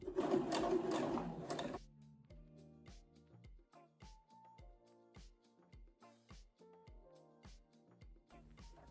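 A sewing machine hems trousers, first as a brief loud burst of fast stitching, then slower, steady rhythmic stitch thumps with a whirring motor tone, close and clear, without talk.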